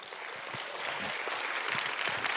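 Steady audience applause at a policy festival lecture, a dense wash of many hands clapping at moderate distance, sustained evenly with no voices on top.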